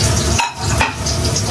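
Garlic and onion dropped into a hot pan while cooking a tilapia fish soup: a loud, close burst of sizzling and frying with a brief stirring clatter in the middle, with no voices.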